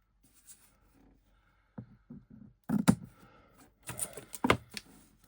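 Close, quiet snips and clicks from cutting small card pieces for a Ruby Wedding card, a few sharp cuts separated by soft handling sounds and pauses.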